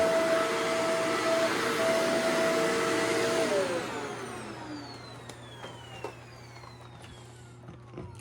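A vacuum cleaner runs loud and steady with a whining motor tone, then winds down and spins to a stop partway through, leaving a low hum and a few faint knocks.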